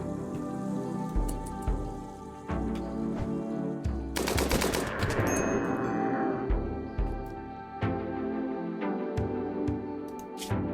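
Sustained bursts of LMG machine-gun fire in RimWorld, rapid rattling volleys that swell loud and dense in the middle, then thin into scattered shots with faint crackle between.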